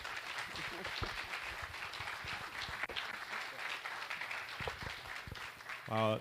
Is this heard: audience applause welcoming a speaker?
yes